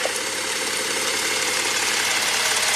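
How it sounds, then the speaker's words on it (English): A 2010 Subaru Tribeca H6 engine idles close by with a steady hum and broad hissing roar, warming up after a coolant leak repair, unchanging throughout the short stretch. "I'm warming up the engine."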